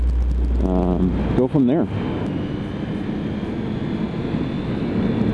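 Triumph Street Triple R motorcycle engine droning on a highway, rising pitch sweeps as it accelerates, heard up close with strong wind rush and a brief spoken phrase.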